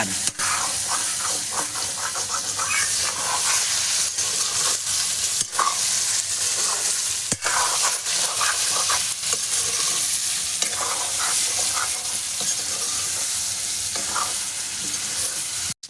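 Meat curry cooks in a kadai with a steady loud sizzle and bubbling, broken by frequent stirring scrapes and clinks throughout, with no voices.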